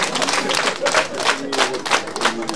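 A crowd at a Rwandan traditional wedding ceremony claps in quick, uneven bursts that swell and fade across a few seconds, with some voices mixed into the applause.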